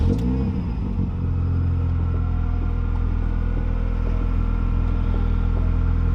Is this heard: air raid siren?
no